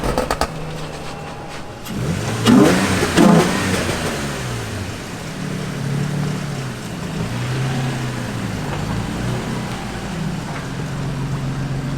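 A Genesis drift car's engine revs hard while driving, rising through loud surging pulls after a quieter start, then settling into a steady rolling drone with repeated swells of throttle.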